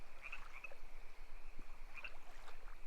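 Crickets chirp in short, faint bursts over the steady, quiet rush of a flowing stream, with no voices.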